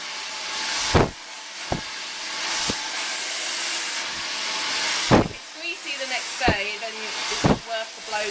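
Hair dryer blowing steadily on a child's below-shoulder hair while it is cut and styled, a continuous airy hiss broken by several short knocks and handling sounds, with brief speech-like tones near the end.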